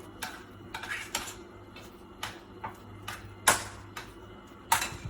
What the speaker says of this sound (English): Now stir the batter.